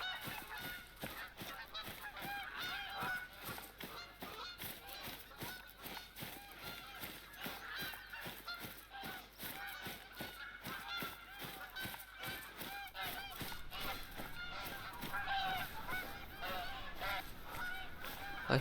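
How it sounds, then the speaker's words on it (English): A flock of geese honks continuously outdoors, a dense overlapping clamor of calls mixed with rustling movement, moderately near and steady throughout, with no voices over it. "I hear some geese."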